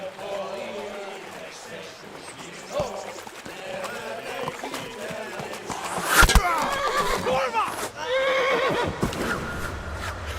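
Horse whinnying in the medieval game Kingdom Come Deliverance, a loud neigh midway among shouting voices, splashing and hoof movement near a river bank.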